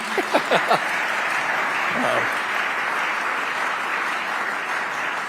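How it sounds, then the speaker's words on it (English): Audience applause at a congressional briefing, a steady wash of clapping that fills the whole stretch, with a brief voice over it at the start. "thank you, ma'am, I see you clapping"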